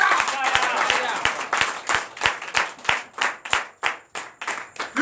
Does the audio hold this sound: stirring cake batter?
no